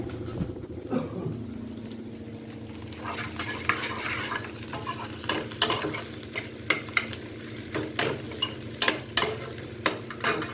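Egg bhurji fries in a pan with a steady low sizzle while a utensil stirs and scrapes, adding frequent light clinks against the metal, close by and with no voices.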